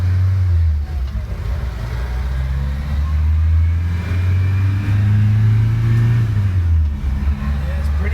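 A 1984 Toyota Land Cruiser with a turbocharged engine and five-speed gearbox pulls away under load, its loud, steady engine drone rising and falling through gear changes from inside the cab, with no talk over it.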